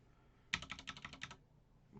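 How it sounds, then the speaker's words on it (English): A burst of about ten quick keystrokes on a gaming computer keyboard, close and crisp, fairly quiet, with a short silence afterward and no talking. "I'm using my gaming keyboard here."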